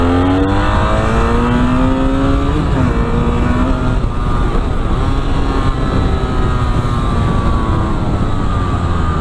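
A BMW F 800 R two-cylinder motorcycle accelerates hard, its engine note climbing steadily through the gears with traction control intervening. The sound is loud, close and continuous, with no voices over it.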